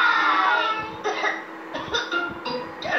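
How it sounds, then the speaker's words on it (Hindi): Cartoon characters from a Hindi-dubbed Peppa Pig episode cough in a quick series of short, close bursts, some childlike and whimpering, with no clear speech. "पेड्रो की खांसी फैल रही है।"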